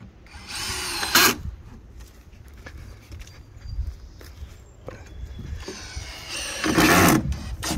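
Cordless power drill driving screws into a panel while assembling a chicken coop, two loud bursts of drilling near the start and end with quieter handling and footsteps in between.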